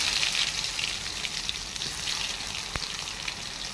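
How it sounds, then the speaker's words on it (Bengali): Mango pieces for a mango oil pickle fry in hot oil over tempering spices in a wok, giving a steady, dense, close sizzle throughout with no talk. "এরপর ফোড়নটা একটু ভাজা ভাজা হতে আমগুলো দিয়ে দিলাম।"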